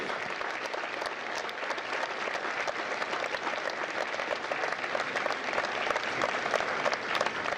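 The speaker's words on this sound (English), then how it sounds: "Ladies and gentlemen, a round of applause for their dedicated service to Corps and country." A crowd at a Marine Corps recruit graduation at MCRD San Diego applauds continuously, a dense, even roar of many clapping hands that holds steady and swells slightly near the end.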